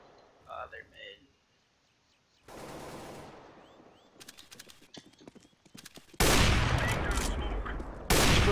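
Gunfire from a first-person shooter game, several sharp bursts and rapid volleys, loud and close, with an earlier stretch of hoofbeat-like game sounds and some quieter clatter between the shots.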